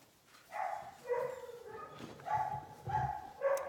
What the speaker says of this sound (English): And now my big dog.